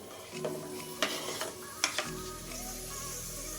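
Chopped tomato and green chilli going into a pan for paneer biryani, with a few metal spoon clinks and scrapes over a faint low sizzle, followed by a steady low hum.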